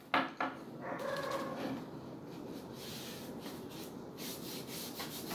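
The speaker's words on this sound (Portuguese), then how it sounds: "Agora eu vou vir com o pincel e fazer o acabamento dos cantos" Paintbrush rubbing along the corners of a painted wooden lid during a craft lesson, giving a steady, close scratchy brushing texture that runs throughout, with a couple of sharper strokes at the start.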